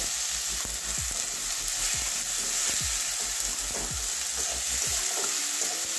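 A spice paste for Bengali potol chechki sautés loudly in a pan, giving a dense steady sizzle with repeated scraping strokes of a spatula every second or so, close up and with no talking.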